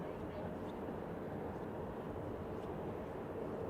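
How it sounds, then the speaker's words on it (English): A Kuwait Airways Airbus A330-900neo airliner, arrived from Kuwait City, rumbles steadily in the distance on a snowy day at Manchester Airport, a broad, even roar that holds without change throughout. "this one's an Airbus A330-900 Neo, which has arrived from Kuwait City, Kuwait Airlines"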